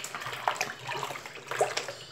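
Ethanol alcohol is poured from a container into a strawberry detergent mix, a close, steady liquid splashing and gurgling that runs for a couple of seconds.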